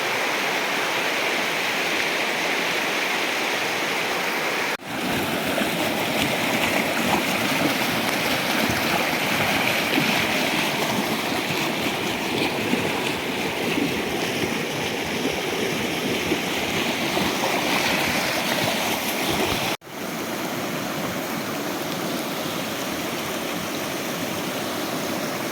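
A river in Lapland rushes steadily in the rain, a dense, continuous broadband roar of flowing water heard close up with no voices, briefly interrupted twice.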